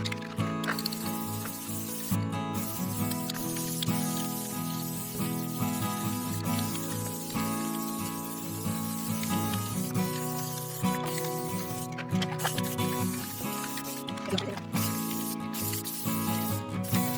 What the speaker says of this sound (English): Well, we gotta spray paint it.